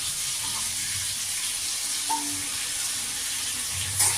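Ginger, garlic, onion and green chilli paste sizzles steadily in a hot pan, a continuous close frying hiss with a brief clink partway through and a small knock near the end.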